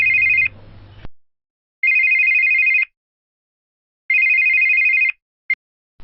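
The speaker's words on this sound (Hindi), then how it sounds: "अबूजन के फोन आने का टाइम हो रहा है" Classic double-burst telephone bell ringing in a quiet room, three loud repeating rings with pauses between them and a short clipped fourth ring at the end, no voices.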